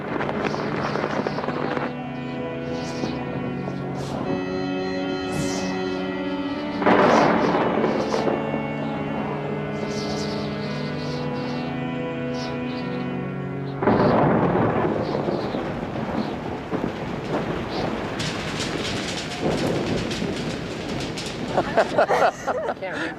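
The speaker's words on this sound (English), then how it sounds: "it's raining" A thunderstorm with rain in Mongolia: deep rumbling thunder rolls and cracks surge in bursts over a steady hiss of falling rain, with music in the first half and loud crackling strikes later.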